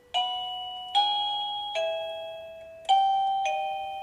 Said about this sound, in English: There's a doorbell. There's the doorbell.